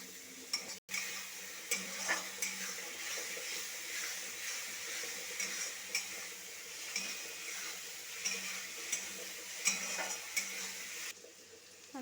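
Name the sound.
stirring spice masala in pan for chicken kosha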